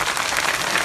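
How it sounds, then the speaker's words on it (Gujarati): A crowd at a rally claps loudly in a dense, continuous burst of applause. "જોરથી પાડો ને મને ખબર પડે કેટલા."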